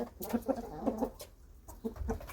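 Several chickens cluck softly in short bursts nearby while eating, with quiet pecking and shuffling sounds between the clucks.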